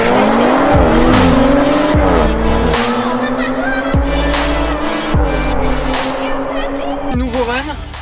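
Audi R8 RWS racing around the Dijon Prenois circuit, its engine wailing up through the revs and dropping sharply on each upshift, repeated every second or two, loud and close with tire squeal.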